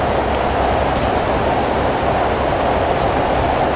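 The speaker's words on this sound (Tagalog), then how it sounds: "kasi lalong lumalakas yung ulan" Heavy rain pours down steadily in a continuous broadband hiss, loud and close with no gaps, as the downpour grows stronger.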